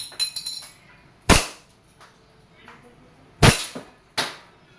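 A KJWorks KP-06 Hi-Capa airsoft gas pistol running green gas fires sharp, close cracking shots, about three loud reports spread over a few seconds, with fainter clicks and handling noises between.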